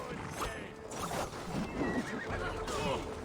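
Horse neighing in the video game Assassin's Creed Valhalla during a battle in the Siege of Paris, a few whinnies mixed with clattering combat sounds and hoofbeats at moderate loudness.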